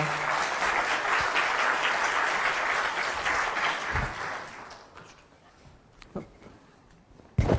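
Audience applause breaks out at a French tech conference session on Azure networking and security after a live demo, loud and sustained for about five seconds, then fading away to scattered claps.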